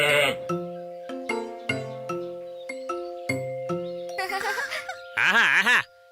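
Cartoon goats bleat in a series of wavering, musical bleats with a sustained tone underneath, ending in a louder, trembling call, close and clear.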